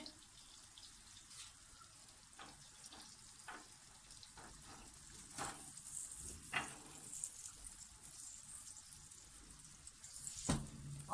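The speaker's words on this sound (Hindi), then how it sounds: "अब हम इसमें कोफ्ते डाल देंगे जो हमने फ्राई किए थे।" Fried chicken malai koftas go into a pan of sizzling ginger-garlic paste, giving a steady low frying hiss broken by several sharp clattering stirs and scrapes, moderately close with no talking.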